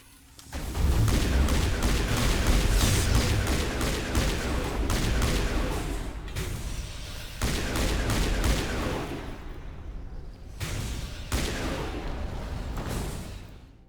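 Gunfire in Mass Effect Legendary Edition, a sustained firefight of rapid shots and heavy booms, loud and dense for several seconds, then easing into shorter bursts with brief pauses between them.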